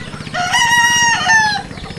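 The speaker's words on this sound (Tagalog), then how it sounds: "Papakain niya ng mga manok." A rooster crows loudly and close by in one long cock-a-doodle-doo, with hens clucking softly underneath.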